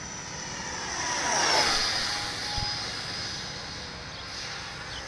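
An E-flite F-15 64mm electric ducted-fan RC jet makes a fast pass outdoors, its whooshing whine rising as it approaches, peaking near the middle and Doppler-falling as it recedes, loud and alone without talk.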